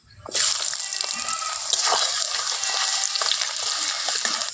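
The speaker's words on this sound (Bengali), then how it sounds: "পেঁয়াজটা লাল করে ভেজে নেব।" Chopped onion drops into hot mustard oil that was tempered with bay leaf and whole cumin, and a loud, steady sizzle and crackle follows. A few faint clicks of stirring sound under it.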